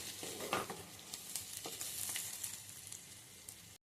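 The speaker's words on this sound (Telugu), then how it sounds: "బాగా ఉల్లిపాయలు, పచ్చిమిరపకాయలు బాగా వేగినాయండి." Onions and green chillies sizzle and fry in a pan for an egg fry, with a steady hiss broken by scraping stirs of a spoon, close and continuous with no talk.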